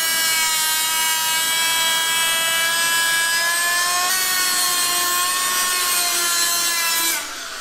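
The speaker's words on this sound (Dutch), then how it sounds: "Even de paspennetjes opschuren natuurlijk, hè." Small wooden dowel pins are sanded during assembly of Volvo BV202 undercarriages, giving a steady, loud whining rub with a constant tone that runs for about seven seconds and then drops off near the end.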